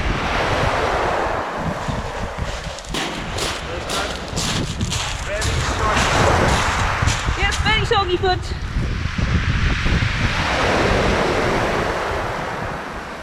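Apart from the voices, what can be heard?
ocean waves breaking on beach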